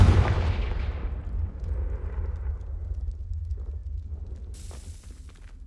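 A Confringo blasting spell in Hogwarts Legacy, a heavy explosive boom that rolls on in a long rumbling decay, joined near the end by a brighter crackling burst.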